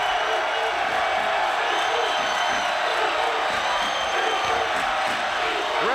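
A packed arena crowd roars at a college basketball game in Lincoln, Nebraska, a steady, loud wall of cheering with no letup, no clear voices standing out.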